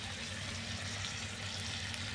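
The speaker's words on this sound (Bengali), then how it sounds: "আলুটাকে আমি লাল লাল করে ভেজে নিচ্ছি।" Chopped potatoes frying in a kadai give a steady, even hiss with a low background hum, quiet and close, with no voices.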